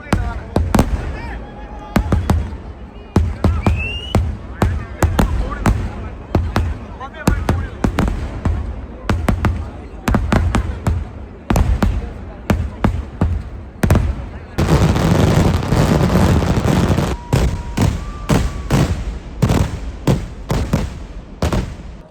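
A fireworks display at the Nemmara Vela temple festival in Kerala, on a rainy day: a long, dense string of sharp, loud cracking bursts in rapid succession, rising into a continuous roaring barrage in the second half, with voices faintly heard.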